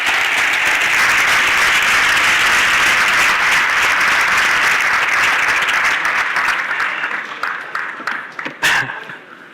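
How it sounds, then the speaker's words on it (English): Conference audience at an innovation stage applauds two speakers coming on, a loud, sustained burst of clapping that holds steady, then tapers into a few last claps before fading out. "A warm applause from Vala and Ángel Rivera."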